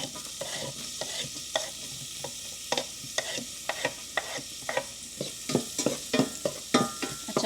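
Onion frying in butter in a pan, a continuous close sizzle broken by repeated clacks and scrapes of a spatula stirring at an irregular pace, no voices.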